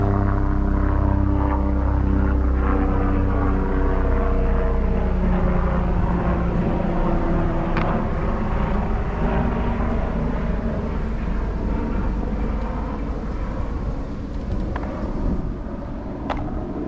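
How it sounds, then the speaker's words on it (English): A helicopter flying overhead gives a low, steady droning rotor hum that fills the whole stretch, loud and continuous, with some wind rumble and no voices. "Y'all hear that helicopter?"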